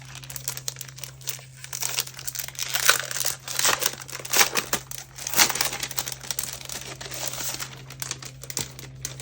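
Crinkling and rustling of 10x8 pattern papers handled during an unboxing, with irregular close crackles and sliding sheets swelling and fading, over a low steady hum, with no voices.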